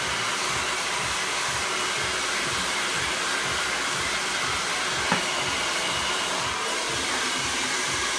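A handheld hair dryer blows hair dry during a big, bouncy salon blow-dry, giving a steady, loud airflow roar that runs unbroken for the whole stretch with no talking.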